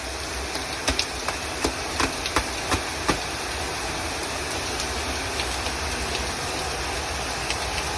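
Rain falls outdoors with a steady hiss while someone showers in it, and a few sharp drips or taps land scattered through the first few seconds.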